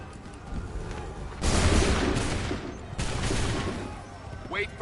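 Musket volleys from a line of soldiers in Assassin's Creed III, two loud, crackling bursts of massed gunfire a second or so apart over a noisy battlefield, with shouted commands in between.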